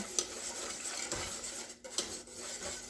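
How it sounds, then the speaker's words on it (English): Pickle brine with sugar boiling in a pot on the stove is stirred, giving a close, steady scraping swirl with a couple of sharp utensil clinks against the pot, with no talking. "just making sure we stir it"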